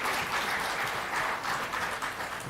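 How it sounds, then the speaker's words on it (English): An audience at an evening women's awards ceremony in Chennai applauds steadily, a dense wash of many hands clapping at moderate loudness throughout, with no voices over it. "Little louder applause would be nice."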